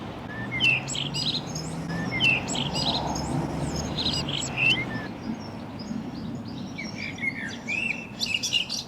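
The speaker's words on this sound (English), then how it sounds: "Can you hear that blackbird?" Birdsong with a blackbird among it, heard outdoors on a quiet housing estate path in Kirkham and Wesham, Lancashire: repeated short melodic phrases and chirps over a steady low background hum, moderately close.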